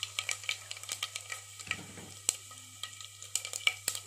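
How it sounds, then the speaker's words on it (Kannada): Mustard seeds crackling and popping in hot coconut oil, a rapid series of sharp close pops over a faint sizzle, with no talking. "ಇವಾಗ ಎಣ್ಣೆ ಕಾದಿದ್ದೀನಿ, ಇದಕ್ಕೆ ಸಾಸಿವೆ ಹಾಕ್ಕೊಳ್ತಿದ್ದೀನಿ"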